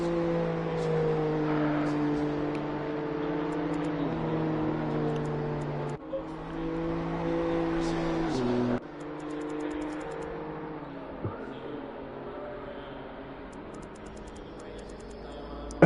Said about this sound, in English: The BMW M2 cars are on track.